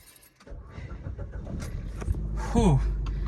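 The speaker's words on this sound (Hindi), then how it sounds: "गाड़ी का इंजन 4 दिन के बाद मैं ऑन कर रहा हूँ" A car engine started after sitting unused for four days: soft cabin rustling and movement lead into a rising starter whir and a steady idle rumble near the end.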